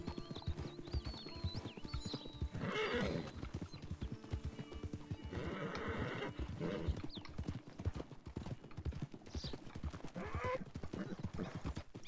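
Horses in Red Dead Redemption 2 walk at a slow pace, hooves clip-clopping steadily alongside a mount's whinnies and snorts over game ambience and music.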